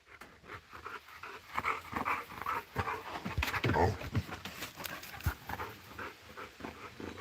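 An Australian Shepherd herding dog pants rhythmically and gives soft whimpers close by, with a person's voice and some rustling mixed in.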